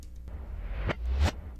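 Reversed tom drum sample swelling up from nothing into a sudden cutoff, heard twice in quick succession over a low rumble, fairly faint and without any voices.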